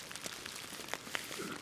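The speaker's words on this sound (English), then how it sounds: "definitely like a freezing rain." Freezing, slushy rain patters on a backcountry campsite in the Eagle Nest Wilderness, Colorado, a faint steady hiss with a few sharper drop ticks scattered through it.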